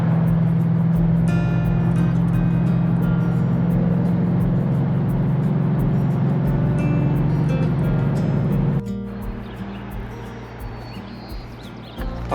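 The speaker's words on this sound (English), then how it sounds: "Oh, the Mustang is cold and unhappy this morning." A cold Ford Mustang engine running, a loud, steady low rumble close by that drops to a quieter, rougher idle about two-thirds of the way through, with faint chirps in the background.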